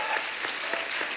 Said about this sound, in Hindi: साथियों, एक बार जोरदार तालियों से स्वागत कीजिए ब्यूटीफुल कियारा आडवाणी और सिद्धार्थ मल्होत्रा का